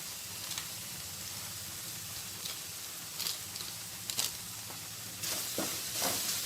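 Maggi masala powder frying in a pan gives a soft, continuous sizzle with faint scraping and stirring taps scattered through, quiet and close.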